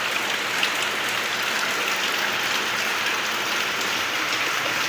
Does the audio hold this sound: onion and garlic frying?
no